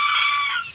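Broiler chickens in a poultry shed let out a single short, high-pitched squawk, close and clear, fading away within a second.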